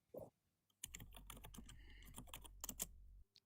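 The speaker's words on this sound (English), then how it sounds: "He's typing." Rapid typing on a computer keyboard, a dense burst of clicking keystrokes after a single tap, close and quiet with no talk.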